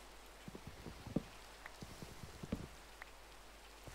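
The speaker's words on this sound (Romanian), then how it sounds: "Super, ne și plouă." Rain falling in the video game Minecraft, a soft, quiet hiss of rainfall with scattered light drops tapping close by.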